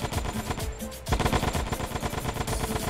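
Rapid machine gun fire from the GTA San Andreas video game rattles in dense, continuous bursts, with a brief lull before the shooting resumes just as loud.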